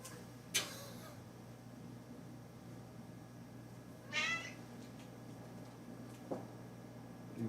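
A cat meows three times, short and fairly faint, spaced apart over quiet room hum and hiss.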